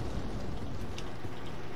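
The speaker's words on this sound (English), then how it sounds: "it's so loud outside. It's raining." Rain falls outside in the Roblox horror game Doors, a dense, even hiss of rainfall filling the short moment with no break.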